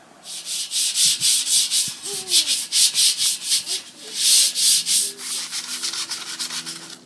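Rust and loose paint are scrubbed off a metal tile table in loud, rhythmic back-and-forth abrasive strokes, about a dozen rasping passes at close range with a short pause midway.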